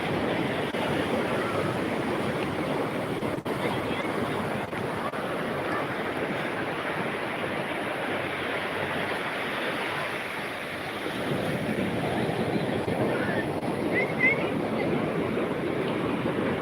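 Sea waves surge and wash onto a crowded beach in Colachel where local fishermen's boys swim, a steady broad roar with gusts of wind across the microphone and no clear voices.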